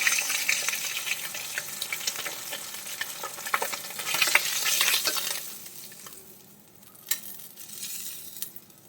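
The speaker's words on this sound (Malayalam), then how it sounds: "നമുക്ക് ബാക്കിയുള്ള മീനും കൂടി ഇതുപോലെ ഒന്ന് വറുത്തെടുക്കാം." Crackling sizzle of frying in hot oil with stirring scrapes, loud at first then quieter, with a few sharp clicks near the end.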